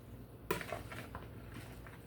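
Salad of red onions, cucumbers and tomatoes tossed in a bowl with vinegar gives a sharp clink, then soft, scattered scraping and clattering of utensils against the bowl, fairly faint.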